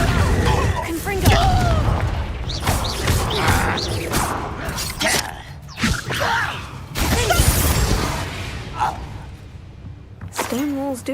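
The Confringo blasting curse in the video game Hogwarts Legacy sets off booming, crackling explosions amid a loud, busy fight with crashes and whooshes, while voices talk throughout.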